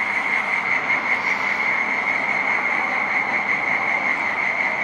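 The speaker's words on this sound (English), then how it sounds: "but now we're thinking crickets or frogs. I think frogs." Frogs croak at night near Perth, Australia in a dense, unbroken chorus with a steady high-pitched pulsing drone that stays loud and constant throughout, with no talk.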